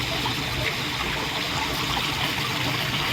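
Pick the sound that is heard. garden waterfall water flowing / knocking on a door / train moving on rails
garden waterfall water flowing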